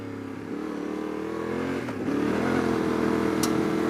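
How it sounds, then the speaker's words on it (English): A Yamaha T700 World Raid motorcycle rides over gravel on half-road, half-off-road tyres, its engine droning steadily and close, climbing in pitch and loudness as the throttle opens, with faint clatter from the loose surface. "I'd happily ride this on the gravel all day"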